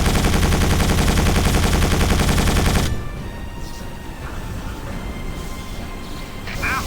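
Enemies fire rapid bursts of gunfire in the video game Quake 4, dense and loud for about three seconds, then dropping to scattered quieter shots and background game noise.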